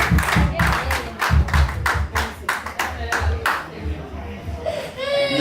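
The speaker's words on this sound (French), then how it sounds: "on va applaudir pour les mamans qui ont" A festive independence-day gathering claps for the mothers who prepared the food, bursts of close, uneven hand clapping in a small group, fading near the end as a child's cry and stray voices rise.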